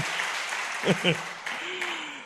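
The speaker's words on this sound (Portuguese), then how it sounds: "Vamos dar um aplauso para os meninos aí." Brief applause from a church conference congregation, moderately close, with a few louder claps and a voice speaking over it partway through.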